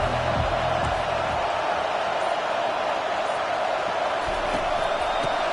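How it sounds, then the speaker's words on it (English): Stadium crowd at a football game roars in a continuous loud wash of cheering that holds steady throughout with no single voice standing out. "This crowd bringing an ear-splitting welcome to their visitors."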